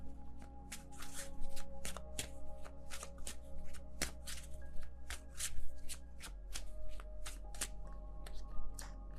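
Tarot cards shuffled by hand in a rapid run of crisp riffles and slaps, repeating steadily throughout over a low steady hum, close and fairly quiet with no speech.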